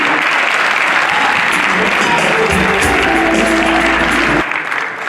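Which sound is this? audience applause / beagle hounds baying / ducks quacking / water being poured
audience applause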